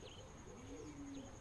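Faint bird calls in a Doki Doki Literature Club mod: a couple of soft cooing, chirping notes over a steady hiss and low hum, with a high tonal whine running throughout.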